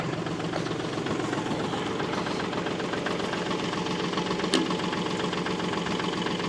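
A farm tractor engine idles close by on a winter farm day, giving a steady, even rumble with a faint knocking pulse that holds throughout.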